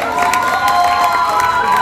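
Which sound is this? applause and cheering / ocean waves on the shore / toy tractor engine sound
applause and cheering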